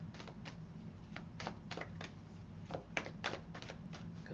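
A tarot card deck is shuffled quietly and close by, with soft irregular bursts of riffling and slapping cards over a faint background hum.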